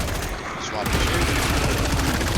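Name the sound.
gunfire from Killing Floor 3 video game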